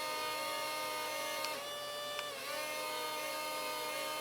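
A toy Dawdix amphibious RC hovercraft motor runs at full throttle forward with a steady, high, buzzing whine that wavers slightly in pitch, close up and without speech.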